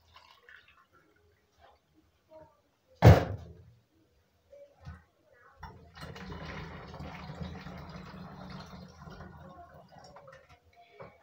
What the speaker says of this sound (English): I'll add another cup of water.